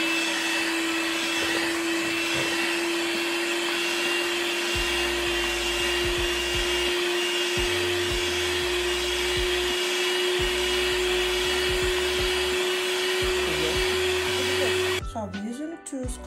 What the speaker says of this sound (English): we're going to generate air by whisking it for about 8 to 10 minutes